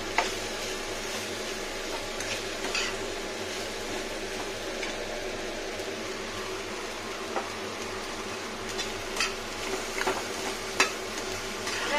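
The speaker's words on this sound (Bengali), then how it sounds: "এখন এটা ফ্রাই করবো সুন্দর করে হলুদ দিয়ে।" Okra fries in a pan with turmeric and salt on a gas stove, giving a steady soft sizzle with occasional scraping stirs and light clinks throughout.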